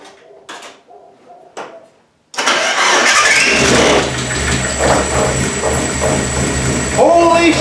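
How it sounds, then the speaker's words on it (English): Mazda Miata on a stand during a widebody rebuild, a few quiet clicks and thumps before the engine cranks and catches, then runs loud, rough and uneven nearby, with a voice briefly speaking near the end. "the car actually started, and it was running rough, but it ran"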